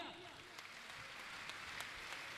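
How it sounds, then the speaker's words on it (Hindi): Faint audience clapping at a religious gathering with Muni Pramansagar, scattered soft claps in a hall, with a voice speaking over it. "तालियां तो बजाइए आप"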